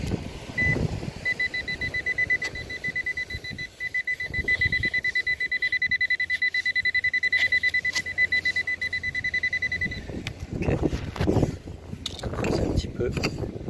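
A metal detector sweeping the ground gives a sharp, high-pitched target tone that repeats in a fast, steady pulse for several seconds, loud and close. Outdoor rustling and voices come before and after it.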